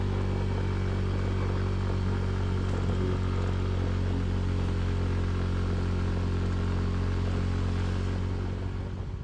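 A motorbike engine labors up a steep island road in the Philippines, a continuous low droning hum with a steady strained tone, close and unbroken for the whole stretch, no talk.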